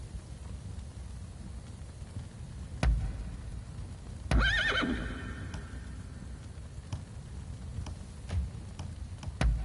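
A horse in the video game Rise of the Ronin gives a sharp neigh midway, with scattered hoof clops and thuds before and after over a quiet background.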